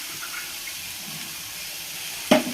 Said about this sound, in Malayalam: ഈ പുളിവെള്ളമാണിത് കേട്ടോ നേരത്തെ വെള്ളത്തിലിട്ട പുളിയില്ലേ അതാണ് ഈ ചട്ടിയിലോട്ട് ഒഴിക്കുന്നത്